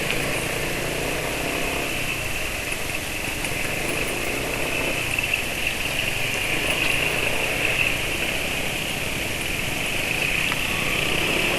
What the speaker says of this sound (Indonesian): Terus suara mesin saya tunggu habis masuk gang